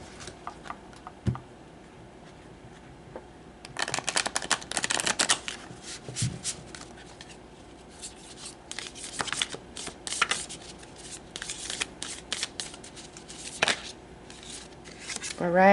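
Tarot cards being shuffled, with soft riffling flutters and snaps in bursts under quiet background talk, closing with a few taps and slides of cards.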